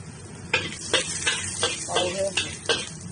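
A wok being stirred and tossed while food sizzles in hot oil, with repeated sharp scraping strokes roughly every half second over a steady hiss; close and fairly loud, no talking.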